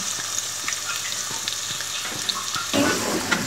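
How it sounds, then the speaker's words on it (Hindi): About half a cup of ghee heating in a pan, a steady close frying sizzle with faint crackles throughout, swelling a little louder near the end; no voices. "ये मैंने हाफ कप के करीब घी गरम करने के लिए रखा है।"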